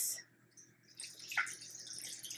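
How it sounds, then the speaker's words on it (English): Water poured from a short height into a pot of pumpkin soup, a faint, close splashing trickle that starts and stops briefly. "So we're going to add water to this."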